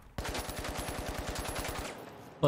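An AKM rifle in the shooter The Finals fires a rapid automatic burst of roughly twenty evenly spaced sharp shots, loud and close, then stops abruptly.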